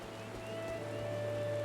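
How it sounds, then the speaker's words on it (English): Heavy rain in the Final Fantasy 14 Endwalker video game, a steady dense hiss of downpour that holds constant throughout, with no voices over it. "Oh dang, it's raining pretty hard here."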